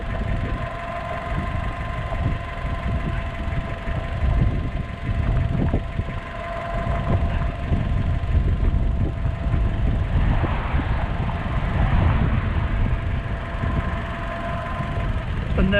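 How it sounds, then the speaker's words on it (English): A 2012 Fiat 500 engine idles with a steady low rumble, faltering in a few uneven dips and surges as it stumbles. "I'm sure I thought I saw the engine stumbling"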